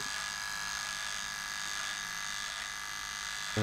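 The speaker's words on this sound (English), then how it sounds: "So we'll use the trimmer." A SOOCAS cordless electric shaver's trimmer buzzes steadily with a thin, high whine while trimming a beard, moderately close, holding one even tone and ending with a brief louder bump.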